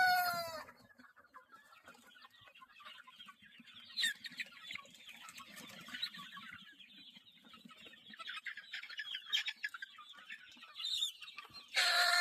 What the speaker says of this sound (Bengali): দেখেন কি সুন্দর করে খাবারগুলো খাচ্ছে মুরগিগুলো।